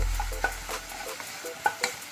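Tomatoes are sautéed in a pan for a chicken gravy, with a brief hiss under a few quick scraping stirs and light clinks.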